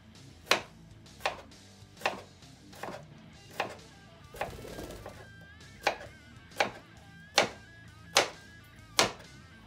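A cucumber chopped on a cutting board, with about a dozen sharp, evenly spaced knife thunks, close and clear, and a brief rustle partway through.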